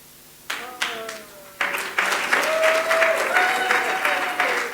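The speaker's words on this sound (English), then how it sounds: "We have an icon that we must recognize, that we must applaud, that we must be proud of." Audience applause at a gala awards dinner, starting with a few scattered claps that quickly swell into steady, fairly close clapping from the room, with a voice speaking briefly over it.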